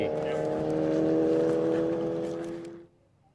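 A 1350cc motorcycle races down the Bonneville salt flats course, its engine a loud, steady droning tone held for about three seconds before dropping away as the bike runs off into the distance.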